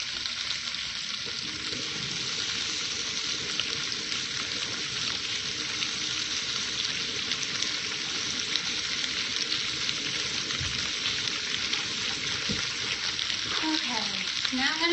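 Pork pieces for kalua pig sizzle steadily in a pressure cooker, a dense continuous frying hiss at close range that runs unbroken throughout, with a few soft handling knocks near the end.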